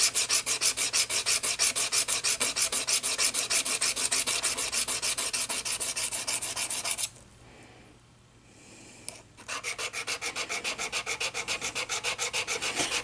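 Piece of carbide rubbed back and forth on a coarse lap to prepare it for silver soldering: steady rhythmic scraping strokes, close and even, with a short pause before the rubbing resumes.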